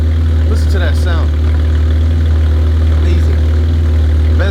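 A Chevrolet Camaro V6 with an aftermarket exhaust idles steadily with a deep, loud, constant rumble, while someone talks briefly over it.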